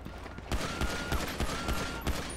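Gunfire in a role-play video game: a rapid run of sharp shots at a steady rhythm, moderately loud, over a constant background wash with no talk.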